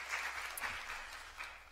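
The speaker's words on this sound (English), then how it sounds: "I would like to ask you to give them a round of applause" Audience applauding panelists after a #MeToo conversation evening, a brief, fairly faint burst of dense clapping heard from within the room.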